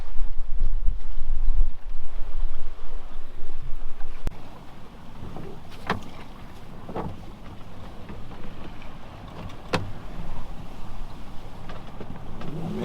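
Wind buffeting a sailboat in a narrow passage off Fyn, Denmark, a rough roar close to the microphone that eases after a few seconds, with scattered knocks and creaks from the boat.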